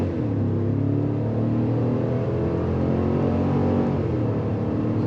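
A 2021 Cadillac Escalade with a big V8 pulls hard from a standstill on a slight uphill, a loud, sustained engine roar rising steadily from inside the cabin, no speech.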